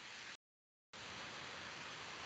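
Heavy rain comes through as a steady, dense broadband hiss, cutting out to silence for about half a second before resuming just as loud and unbroken.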